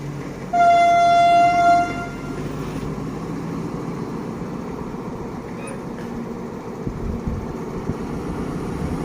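Passenger train pulling into Ban Khu station in Thailand, opening with a loud, sustained horn blast of about a second, followed by a steady rumble of the train rolling in close by.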